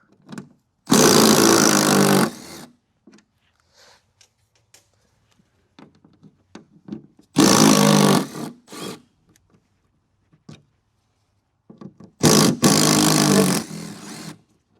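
Three loud bursts of a power tool, likely an impact driver, spinning out fasteners from the battery lid of a Gen 2 Chevy Volt, each lasting one to two seconds, with quiet clinks and handling noises between them.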